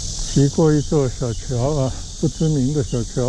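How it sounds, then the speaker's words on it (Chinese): Cicadas shrill steadily along a tree-shaded country path beside the Huangpu River, a continuous high buzz running under a man's close, conversational speech throughout. "听着耳畔的知了的鸣叫声"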